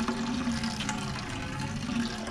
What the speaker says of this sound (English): we have emptied the tank, basically. Filled up the whole bucket